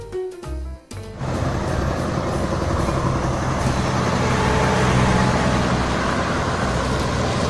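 A cargo truck drives past close by, its steady engine and road roar filling the scene after a brief burst of clatter at the start, with no talk over it.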